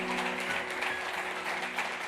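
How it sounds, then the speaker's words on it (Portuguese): A church congregation claps steadily in a brief, continuous wash of applause with a sustained tone ringing underneath. "Se eu fosse você, aplaudir o Senhor por isso."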